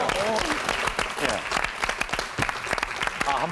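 Studio audience applauding on a Korean television antiques appraisal show, steady dense clapping filling the whole stretch with a few voices mixed in.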